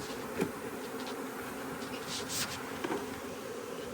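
Dense, steady buzzing of many honeybees swarming around an open beehive, with a constant close hum and individual bees flying past now and then.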